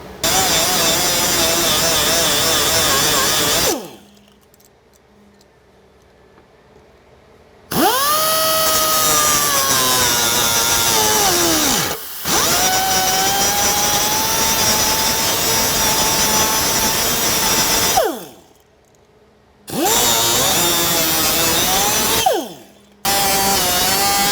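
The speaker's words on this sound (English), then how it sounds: "we're going to use an air tool in our shop, but you can use a Dremel as well. Make sure you're using eye protection before you start grinding" Pneumatic air tool grinding off the studs on a Jeep JKU Rubicon in a shop: a loud, sustained whine running in long bursts, with a couple of short pauses between passes.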